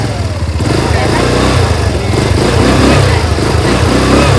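Small motorcycle engine held at a steady, fairly loud drone with harmonic buzz, rising slightly as the throttle is twisted, running close by with outdoor background noise and voices faintly underneath.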